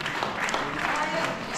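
A crowd at a Republic Day commemoration held by the Hindu Council of Brent giving a round of applause for the deputy mayor; brief, dense clapping with voices murmuring underneath.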